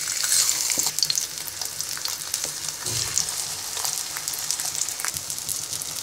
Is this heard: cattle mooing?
no